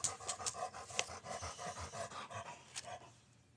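Close, rapid panting of an anxious pet dog indoors, a steady quick huffing rhythm at moderate volume with no voices.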